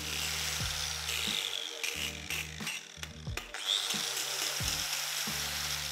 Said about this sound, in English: Change of plan, we found a vise and an angle grinder.